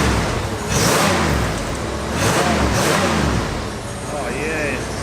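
An abandoned Cadillac limousine engine with no muffler revs in repeated rising and falling surges, loud and rough, with an open raspy exhaust tone close by.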